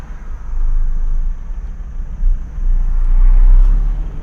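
Busy city road traffic in Thailand, a steady low rumble of engines with a passing vehicle swelling louder near the end, close and continuous with no voices.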